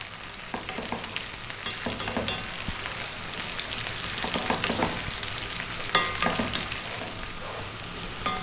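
Eggplant and potato pieces fry in a pan for a curry, a continuous close sizzle broken by the scrape and clatter of stirring, with no voices.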